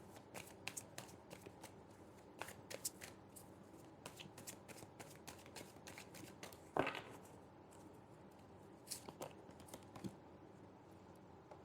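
Tarot cards are shuffled by hand in a quiet room, giving repeated soft, crisp riffling and flicking bursts in an irregular rhythm, close and faint, with one louder snap partway through.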